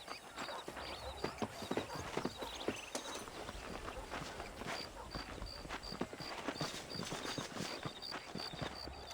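In Red Dead Redemption, horse hooves clip-clop in a steady walking rhythm, faint and continuous under a soft ambient backdrop.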